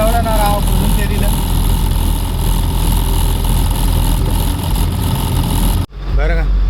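Slow-moving traffic jam of trucks and cars near Chennai port: a dense, steady rumble of idling engines runs throughout, then cuts out abruptly near the end into a much quieter moment.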